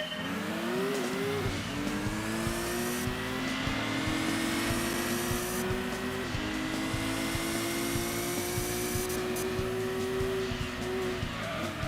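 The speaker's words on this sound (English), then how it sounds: "Boy, I forgot how loud the turbo is." In the Gran Turismo 2 video game, a car's turbo whines loudly and continuously over the droning engine, pitching up and down with gear changes, with occasional tire squeal and no talking.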